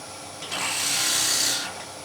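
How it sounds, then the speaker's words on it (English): A brief, bright rasping whir of a woodturning gouge drilling into the centre of spinning wood on a lathe while turning a box, rising for about a second then fading. "We start cutting on the centre, and it will start to drill by itself."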